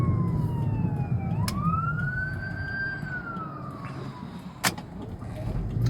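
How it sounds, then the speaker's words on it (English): An ambulance siren wails in a slow rising and falling sweep over traffic rumble, heard from a moderate distance, with a couple of sharp knocks nearby. "Oh, there's an ambulance."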